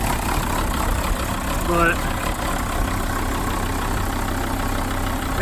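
A Volkswagen Jetta engine idles unevenly with a low, steady rumble, running a little rough, while someone talks briefly over it.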